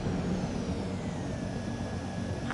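Fighter jet engine roar during a landing in Ace Combat 7, a steady loud broadband rumble with a faint whining tone sliding slowly downward.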